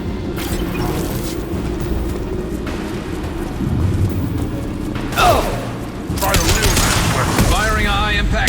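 Weapon fire in the video game Mass Effect 2, with heavy booming shots and crackling bursts over a rumbling combat background, a voice talking in the middle of the clip.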